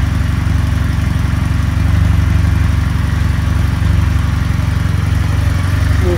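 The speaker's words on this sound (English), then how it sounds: "So the idle's coming down right now." A 2019 Kawasaki W800 Cafe motorcycle engine idles as it warms toward running temperature, a loud, close, steady rumble that holds even throughout with no speech.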